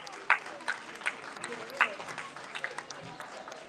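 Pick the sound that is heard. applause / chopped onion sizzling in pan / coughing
applause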